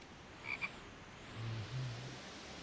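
Frogs croaking in a survival video game, a couple of short higher chirps followed by deeper, low croaks, fairly faint over a soft ambient hiss, with no talking.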